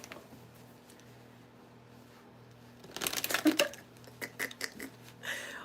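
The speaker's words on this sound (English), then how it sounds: "Let's shuffle this up some more." Cards being shuffled during a live card reading, a quiet lull followed by a cluster of crisp riffling and slapping bursts, then a few softer flicks, close by and alone.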